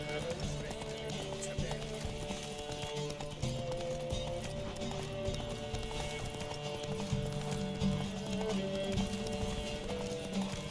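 Rapid clip-clop of galloping hooves runs steadily throughout, with horse snorts and a busy, continuous mix of game sound effects and music layered over it, from the video game The Witcher 3: Wild Hunt.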